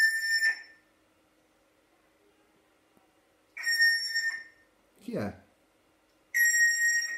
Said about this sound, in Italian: Basta fischiare.